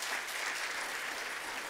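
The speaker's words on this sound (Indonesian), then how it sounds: "Tepuk tangan untuk kebenaran ini." A church congregation applauds during a sermon by Ps Dr Erastus Sabdono, giving a steady, dense wash of clapping hands that stays even and fairly distant through the short moment.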